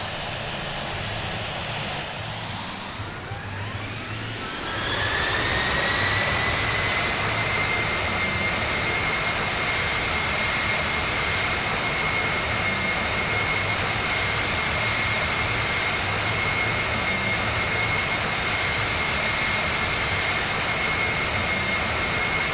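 Simulated airliner jet engines spool up for takeoff in the Infinite Flight game, rising into a loud, steady roar with a high whine that holds for the rest of the run.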